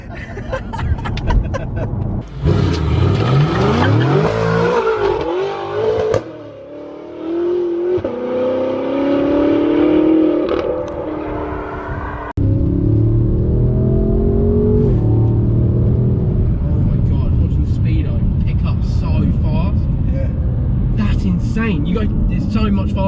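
A 1000bhp twin-turbo BMW M5 F10 accelerates hard, its engine note rising through repeated upshifts as it builds speed, heard from inside the car with excited voices talking and exclaiming over it.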